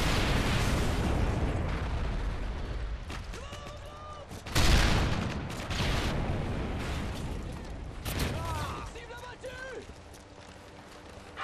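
Explosions and bursts of gunfire from a Modern Warfare 3 match, including a Predator missile strike, with a heavy blast near the middle and rapid shots scattered around it, under dense game effects and radio-style voice callouts.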